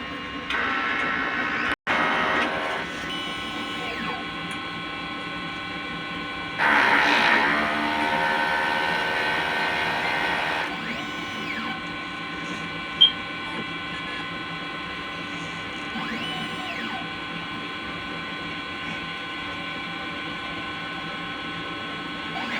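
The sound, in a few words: printer running a head cleaning cycle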